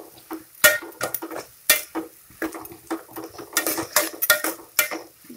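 Utensils scrape and clatter against a pan as onions are stirred for onion chicken curry, a busy run of close, irregular clinks and scrapes with only a faint trace of frying underneath.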